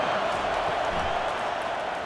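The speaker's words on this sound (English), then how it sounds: "Now the crowd responding in the red zone" Football stadium crowd noise while the home team drives in the red zone, a dense steady roar of cheering that stays loud and even from start to finish.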